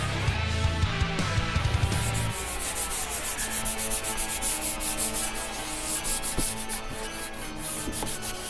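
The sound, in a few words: sanding model primer with 800 grit sandpaper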